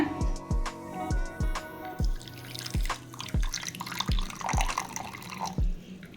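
Water is poured over ajwain (carom seeds) set to soak for an omapodi snack, making a steady run of close, distinct drips and splashes with a faint trickling wash behind them and no talking.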